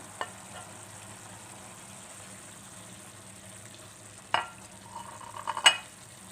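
Peppers for ajvar sauce cook in a pan with a faint low sizzle, then a few louder scraping stirs and a brief watery splash near the end.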